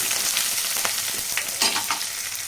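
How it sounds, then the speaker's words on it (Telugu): Sliced onions and green chillies crackle and hiss in a hot pan during stirring, giving a bright continuous sizzle broken by a few scraping bursts, close and clear, with no voices. "పొడవుగా తరిగి ఉంచుకున్న ఉల్లిపాయ ముక్కలు కూడా వేయాలి వేసి అంతా కలుపుతూ ఇలా దోరగా వేయించుకోవాలి"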